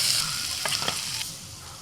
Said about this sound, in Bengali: এঁচোড়টা একটু তেলের মধ্যে ভেজে নিচ্ছি